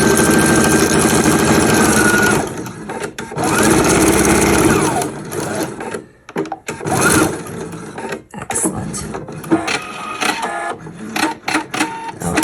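A sewing machine hemming felt bag pockets, with loud whirring stitching runs that stop and start, followed by a stretch of quieter handling and clicking noises.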